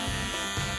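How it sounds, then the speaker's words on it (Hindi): A small electric trimmer in a video game buzzes briefly, shaving off a moustache in two short close bursts. "वाह, कितना छोटा ट्रिमर है। मुझे इसकी ही जरूरत थी। Bye bye मूंछों।"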